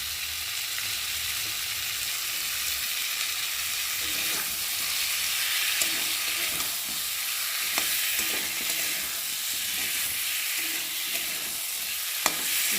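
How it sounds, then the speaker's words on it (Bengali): Potatoes stir-fried with ginger and cumin paste in a pan for a rohu fish curry, a continuous steady sizzle with faint occasional scrapes of stirring, fairly close. "আলুটা মশলার সাথে দিয়ে কষিয়ে নেব। এবার দিয়ে দেবো আদা বাটা আর জিরে বাটা।"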